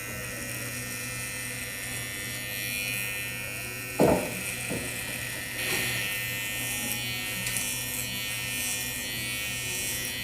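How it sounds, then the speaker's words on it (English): Electric hair clipper clipping a patient's hair in a hospital, a steady close buzzing hum running throughout with brief rustling bursts partway through. "We don't shave hair, we clip hair."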